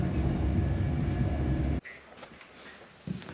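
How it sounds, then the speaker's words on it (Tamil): A train in Britain rumbles loudly with steady low roar for under two seconds, then cuts abruptly to a quiet interior hum with faint clicks and a brief bump. "ஸோ இதுதான் ட்ரெயின்."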